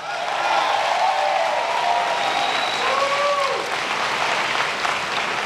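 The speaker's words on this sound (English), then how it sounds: "so give her a big round of applause" A large audience applauds during a speech by President Obama in Cleveland, sustained and even clapping that fills the hall, heard from a distance, with faint whistles rising over the crowd.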